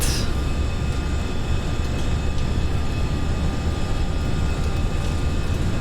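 Airbus A320 jet engines spool up to takeoff thrust in the FSLabs flight simulator, a steady, loud broadband roar with a low rumble that holds evenly throughout.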